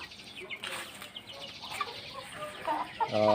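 Chickens cluck softly and in short bursts while they eat grass, close by, with some louder calls near the end.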